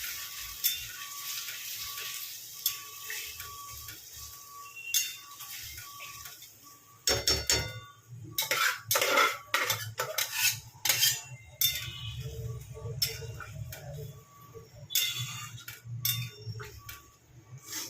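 Mutton for Namkin Gosht sizzles and is stirred in a pot, a steady frying hiss with the close clatter and scrape of a spoon against metal growing busier and louder partway through.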